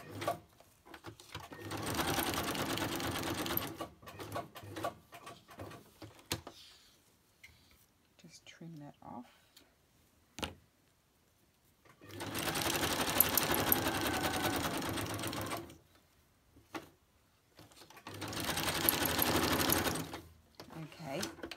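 Sewing machine stitching around fabric, running in two sustained bursts of several seconds each with quiet gaps between, fairly close and steady in tone.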